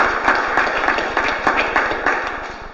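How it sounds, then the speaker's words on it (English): Clapping rings out for club officers at a Toastmasters meeting in Dallas, a modest crowd applauding steadily with audible individual claps throughout. "let's give a round of applause"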